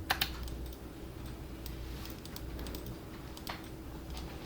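A Shift key press and mouse clicks on a computer while working in 3ds Max: a few sharp, close clicks near the start and another small cluster later, over a steady low hum.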